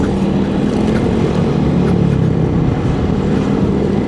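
A Yamaha XMAX 250 scooter's 250 cc engine runs with a loud, steady, slightly rough drone that holds continuously without pauses, with no voices over it.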